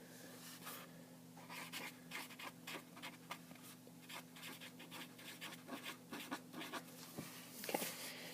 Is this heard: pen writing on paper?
yes